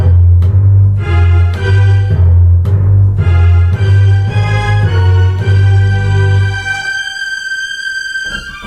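Keyboard plays the Super Mario World castle theme with layered strings and timpani across a wide five-octave spread, a loud, heavy low end under pulsing chords, then a sustained high tone as it trails off.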